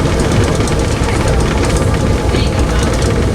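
A steam cog railway train grinds steadily uphill on its rack up Mount Washington, loud rhythmic clattering and a low mechanical rumble running throughout without pause.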